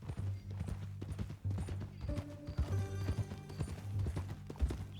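Hooves clip-clop in a rhythmic gait in Red Dead Redemption 2, close and fairly loud, joined midway by a tonal game sound layered over the trotting.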